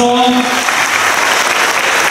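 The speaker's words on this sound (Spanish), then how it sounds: "Damos otro fuerte aplauso" Applause from the congregation at a children's Mass honoring a nativity play of Saint Francis of Assisi, a dense steady wash of clapping that opens with a brief trailing voice and sustains loudly throughout.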